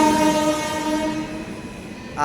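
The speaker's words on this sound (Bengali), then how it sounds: "প্রায় পনেরো মিনিট লেট করে ঢুকলো হচ্ছে হুল এক্সপ্রেস" Hul Express passenger train pulling into a station about fifteen minutes late, its horn sounding a loud sustained multi-tone blare that fades slightly before a brief louder burst at the end.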